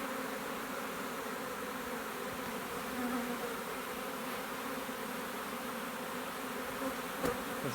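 A swarm of honeybees gathering toward their queen gives off a steady, dense buzzing hum that stays even and close throughout, with no voices over it.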